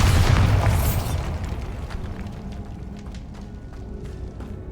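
A Bombarda explosion spell goes off in the Hogwarts Legacy video game: a loud, close boom bursts at the start, then a rumbling tail fades under scattered crackles and debris pops.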